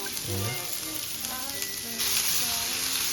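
Butter sizzles and fries steadily in a hot pan, a continuous crackle with a burst of louder hissing near the end, while a voice talks briefly in the background.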